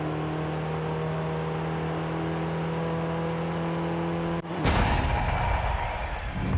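Wuling Sunshine S van engine droning steadily through a lap in Forza Horizon 5, a sustained loud hum that breaks off abruptly and shifts into a rougher, broader roar partway through, with no talk.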